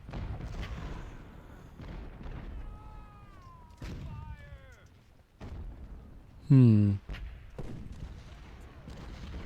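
Cannon artillery fire in the Ultimate General Civil War battle game: scattered booming shots and rumbling blasts in a battle soundscape, with someone talking over them throughout.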